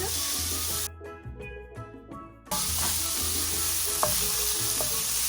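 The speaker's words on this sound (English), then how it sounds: "Now we're just going to stir this around a bit because we need to fry this out." Ingredients sizzle loudly in a pan for Trinidad stewed fish, with a stir sending up a burst of frying hiss after a brief quieter spell, close with utensil scrapes and no talking.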